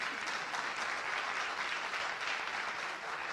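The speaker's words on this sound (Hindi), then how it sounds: "बजाइए ताली, जोर से बजाइए, आहिस्ता क्यों बजा रहे हैं?" Audience applause at a political stage event in India, steady and dense, filling the whole stretch at an even level without a break.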